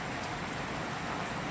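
Heavy rain with wind, a dense, steady hiss of downpour that holds at an even level throughout, with no voices.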